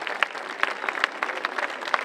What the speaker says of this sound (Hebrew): מגיע להם הרבה מחיאות כפיים